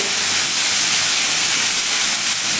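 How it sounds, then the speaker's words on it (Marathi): Garlic paste with ginger and coriander sautés in a pan, giving a loud, continuous, even hiss of sizzling oil that runs unbroken from start to finish, close by and with no voices. "एक एखाद मिनिटभर आपण हे लसणाचा कच्चेपणा जाईपर्यंत छान असं आपण परतून घ्यायचं आहे"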